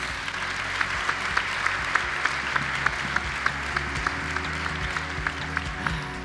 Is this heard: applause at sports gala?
yes